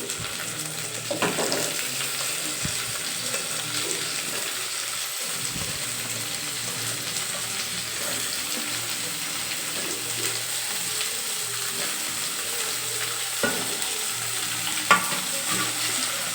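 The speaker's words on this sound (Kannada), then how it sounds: "ಒಂದು ಐದು ನಿಮಿಷ ಚೆನ್ನಾಗಿ ಹುರ್ಕೊಳ್ಳಿ ಎಣ್ಣೆಲೇ ಬೇಯಬೇಕು" Vegetables for a pulao fry in oil with a steady, close sizzle, broken by the scrape and clatter of a spoon stirring through the pan now and then; no one speaks.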